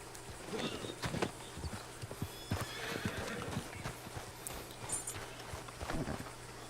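A horse clip-clops steadily along while neighing and whinnying, with a busy outdoor ambience around it, in the video game Red Dead Online.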